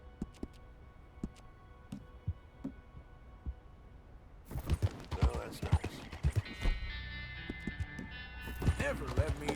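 Horse hooves clip-clopping in the video game Red Dead Redemption 2, a steady run of light hoofbeats that becomes louder and busier partway through, with someone talking over it.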